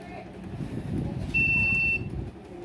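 A short, high electronic beep from a PC booting with a repaired RTX 3070 Eagle graphics card sounds for about half a second over low background rumble and faint room noise.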